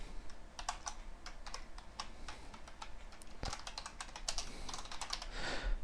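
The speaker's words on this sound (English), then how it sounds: "you may see me typing" Rapid typing on a computer keyboard while writing C# code, with a steady stream of close, crisp key clicks and an occasional heavier thump, no talking.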